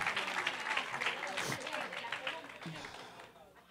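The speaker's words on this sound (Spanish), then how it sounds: "dígale un aplauso a esos hermanos" A church congregation applauds, a fairly faint, continuous patter of many hands clapping, with voices mixed in underneath that fade slightly toward the end.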